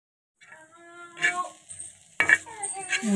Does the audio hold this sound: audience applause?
no